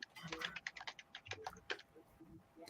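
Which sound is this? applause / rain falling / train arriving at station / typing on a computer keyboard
typing on a computer keyboard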